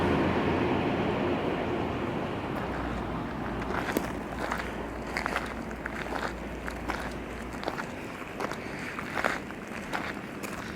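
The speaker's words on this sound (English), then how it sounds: "There we are, train." A train rumbles past on a railway line nearby, a steady low roar with rhythmic clacks and scattered crunching footsteps over it.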